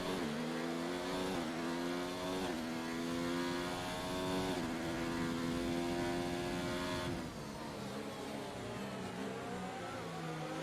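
A Formula 1 car engine screams at high revs through the Chinese Grand Prix in the F1 2019 racing game, a loud, continuous whine that shifts pitch with gear changes and corner exits, with no talk.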